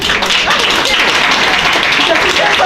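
Audience at a Toastmasters professional seminar breaking into applause, a dense continuous patter of many hands clapping at close range, steady and loud throughout.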